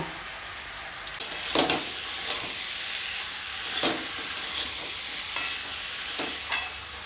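Fried fish heads being sautéed with vegetables in a pan for a home-style curry, a steady sizzle broken by a few louder stirring scrapes, close and alone without talk.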